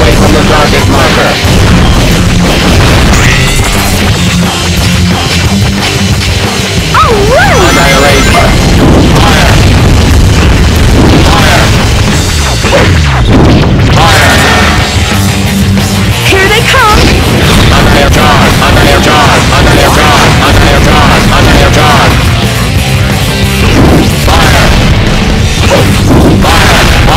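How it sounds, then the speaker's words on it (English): Sonic Heroes cannon attack: loud, repeated booming explosions and crashing impacts pile up over energetic game music, with character voices calling out between blasts. "Confirmed cannon attack."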